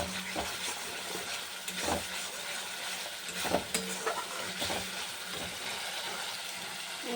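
Spices and cumin are sautéed in oil, with a constant close sizzle, hiss, and steam, and occasional scraping stirs against the pan, all without any talk.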